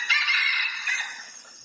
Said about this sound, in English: domestic rooster call would sound something like